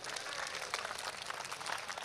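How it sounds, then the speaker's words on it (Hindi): Audience applause at a mushaira in Mumbra, a steady dense patter of many hands clapping that stays even and moderately loud from start to finish with no break. "एक बार ताली बजा करके बताइए कि आप मौजूद हैं"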